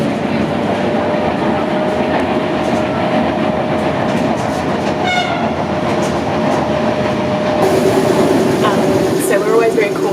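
Passenger train on the line to Herculaneum near Naples, rolling with a steady loud rumble and rail clatter throughout, with faint squeals and a tonal hum; muffled voices are heard inside the carriage.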